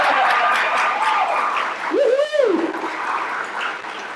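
Applause and cheering from a gathering at a rare-disease family conference opening session, a steady crowd wash with a rising whoop or shout near the middle, voices mixed into the clapping.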